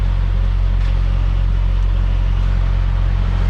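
A truck engine rumbles low and steady as the rig eases forward, pulling its trailer against the kingpin, a constant close drone without voices.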